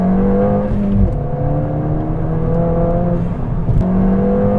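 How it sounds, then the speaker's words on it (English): A Ford Fiesta ST with a Milltek exhaust set to loud mode pulls hard through the gears at night, revs rising steadily, dipping at each shift, then climbing again in a close, resonant in-car drone. "Yes, the exhaust is in its loud mode."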